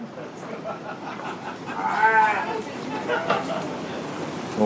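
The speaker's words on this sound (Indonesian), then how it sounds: "Domba sih, ini domba." Sheep on a livestock farm with goats and cattle nearby, bleating in a few wavering calls around the middle of the stretch over steady background farm noise, with people talking quietly in the background.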